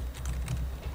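Counter-Strike bomb being planted: soft, quick keypad taps at low volume, ending with a brief electronic beep.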